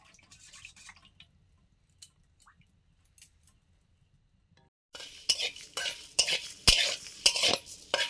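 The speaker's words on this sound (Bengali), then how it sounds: "পরেটার পুরের জন্য, মানে ওই আলুটায় দেওয়ার জন্য শুকনো লঙ্কা, ধনে আর জিরে একসঙ্গে ভেজে নিচ্ছি।" Dry red chillies, coriander seeds and cumin dry-roasting together in a pan: near silence with faint clinks, then rattling, scraping stirs and sharp metallic knocks of a spoon against the pan in the second half.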